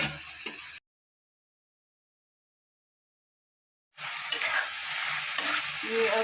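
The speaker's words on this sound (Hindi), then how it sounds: "टमाटर मैं इसमें शिमला मिर्च डाल दूँगी।" Capsicum sizzles and fries in a hot pan while being stirred, a steady crackling hiss broken by a gap of silence before the frying resumes louder and continuous.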